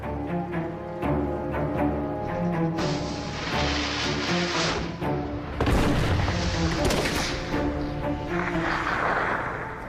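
A musket fired at a Nelson mannequin, with loud, booming blasts and dense rumbling reports filling the clip, echoing and layered rather than a single crisp crack.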